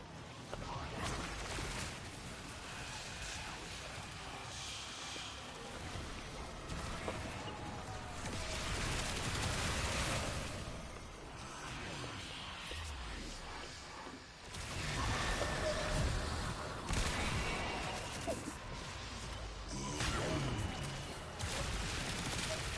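Tenora Prime weapon firing in the game Warframe, a dense stream of rapid gunfire bursts with whooshes and crashes, loud and continuous across the whole stretch with short lulls.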